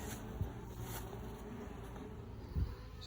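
Honeybees buzz steadily around a frame lifted from a nuc, a soft, continuous close-up drone with a couple of brief louder bumps.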